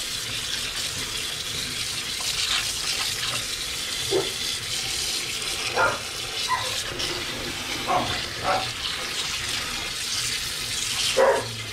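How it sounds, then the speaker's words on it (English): Water poured into a soup pot while cooking chicken soup, a steady close rushing splash with faint clinks and knocks, no talk. "Alright, so now we're going to put water in here."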